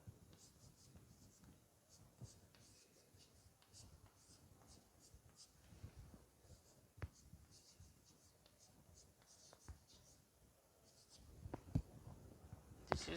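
Chalk or marker writes on a board during an organic chemistry lecture, giving faint, steady scratching strokes at a distance under a low room hum, with a few sharper taps.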